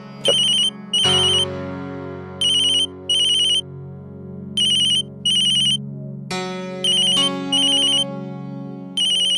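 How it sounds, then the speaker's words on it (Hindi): An electronic ringtone rings in repeated bright bursts over a sustained musical backdrop, loud and close, with no talking. "तो उठा लेना फोन, बेचारा कब से बजा जा रहा है।"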